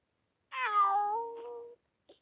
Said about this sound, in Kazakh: Мысығымды не үшін алып келдің, қызым?